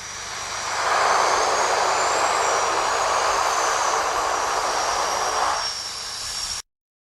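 Twin Otter aircraft coming in to land on snow, its engines droning loud and steady as it passes close, swelling in and fading slightly before the sound cuts off abruptly.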